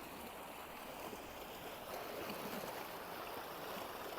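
Water runs steadily from a hose onto freshly planted summer vegetable plants in a kitchen garden beside a mud house, a faint, even hiss and splash with no voices.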